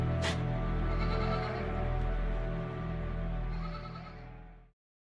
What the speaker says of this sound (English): the truth is that this is a real breed of goat